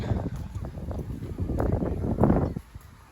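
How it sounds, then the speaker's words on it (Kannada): Strong wind buffets the microphone at a beach park in Sharjah in a continuous low, rumbling roar that swells and fades, with faint, indistinct sounds underneath. "ಸಿಕ್ಕಾಪಟ್ಟೆ ಗಾಳಿ"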